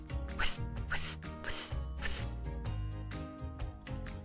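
A voice mimics a rotating lawn sprinkler with a rhythmic series of sharp, hissing 'tch' bursts repeating about twice per second, loud and close.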